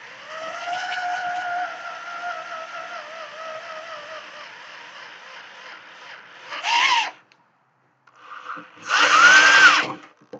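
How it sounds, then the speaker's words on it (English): A power drill bores holes in wood with a dulling bit while a coal forge is built, giving a steady whining drone for several seconds, then short loud bursts separated by a pause. "I think I'm done drilling holes for the moment"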